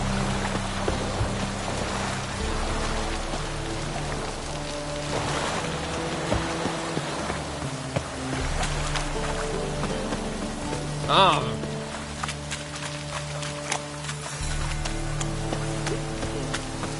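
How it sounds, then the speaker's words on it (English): Rain falls in The Witcher 3 video game, a steady wash of patter over lapping water and a low ambient hum, with soft game music underneath. "Looks like rain."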